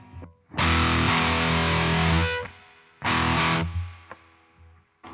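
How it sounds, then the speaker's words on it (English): Electric guitar played through a Boss JB-2 Angry Driver set to its JHS side with the tone turned down, giving two loud, saturated distorted chord bursts, the first held about two seconds and then a shorter second, each decaying into quiet ringing. "And let's see how the JHS side sounds."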